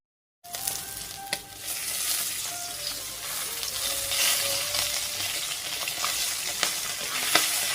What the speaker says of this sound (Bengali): এখানে করছি মাছ ভাজা।